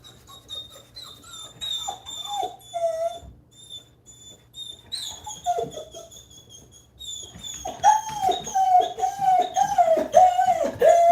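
A dog whimpers and whines in high, repeated cries from separation anxiety, sparse at first and then building into a loud, steady run of yelps and whines.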